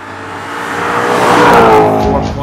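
An Audi RS4's 4.2-liter direct-injected V8, making 420 horsepower with quattro drive, revs up loud and close, its pitch climbing in one continuous surge past 8,000 RPM.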